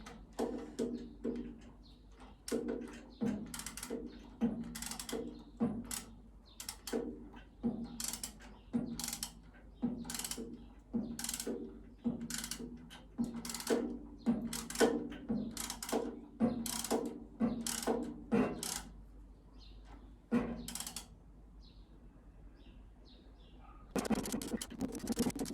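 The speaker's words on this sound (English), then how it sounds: "So that is the fan rubbing" Engine cooling fan rubbing against its tin fan shroud on a CB Performance 2017cc VW engine build, giving a faint, irregular series of scraping and ticking clicks that repeats throughout, quiet and without speech.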